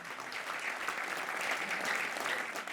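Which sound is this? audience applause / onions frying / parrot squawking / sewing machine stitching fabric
audience applause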